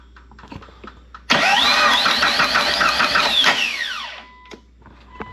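A car engine with a faulty coil pack and misfiring cranks and fires, a loud sudden burst of rough running that holds for about three seconds before winding down, with faint clicks before and after.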